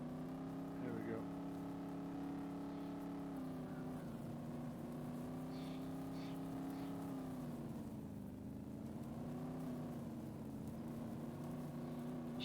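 Range Rover in the DayZ video game climbing a small hill, a steady droning engine hum that dips and rises in pitch, with someone talking over it throughout.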